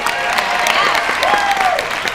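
An audience at a student theatre production applauds loudly and steadily for the stage manager, with a couple of whooping cheers rising over the dense clapping.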